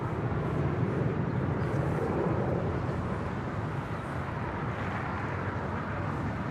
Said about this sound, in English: Next departure here on the south side is American Airlines Flight 2853 heading to Dallas, Fort Worth,